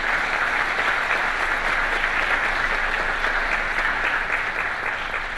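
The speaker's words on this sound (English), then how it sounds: "Hold the applause." A large audience at the opening ceremony of an ICANN meeting in Singapore claps steadily, a dense, even wash of applause that holds at constant loudness throughout with no talk over it.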